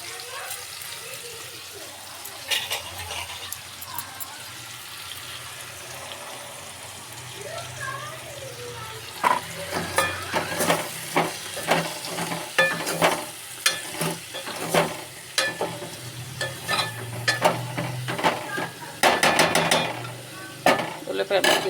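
Onion pieces fry in a pan as a utensil stirs them, giving a soft sizzle under repeated scraping and clattering strokes that grow busier partway through, with brief speech in between.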